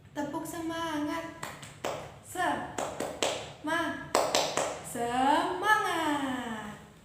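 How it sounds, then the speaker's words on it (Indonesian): A fifth-grade class in Indonesia does a rhythmic spirit clap, sharp bursts of claps and taps in a patterned beat alternating with a teacher's voice calling out, close and clear in a quiet room. "kita tepuk semangat dulu ya. Tepuk semangat."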